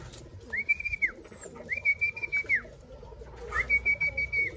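A racing pigeon in a last-lap fun race arrives at its home loft, with three clear rising-and-falling whistled calls ringing out over quiet ground noise and soft fluttering, then rapid pulsing sounds near the end.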